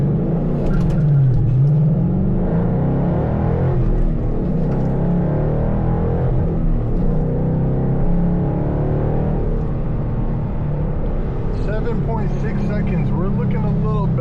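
A 12-year-old Ford Mustang GT accelerates hard in a 0–60 run, its loud engine note climbing and dropping through gear changes, with a voice talking over the end.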